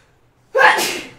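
One loud, nearby human sneeze bursting out after a brief silence and fading away over about half a second.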